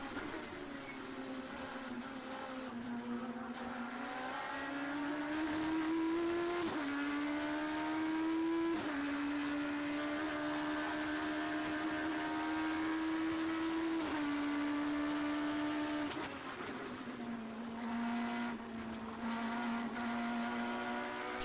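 Race car engine in an online racing game, a loud continuous whine rising and falling with gear changes and throttle, tone climbing then dropping several times over the stretch, alone without talk.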